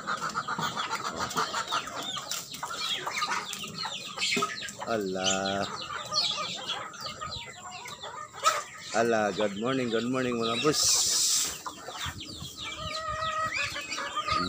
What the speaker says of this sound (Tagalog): Ang dami ng mga manok.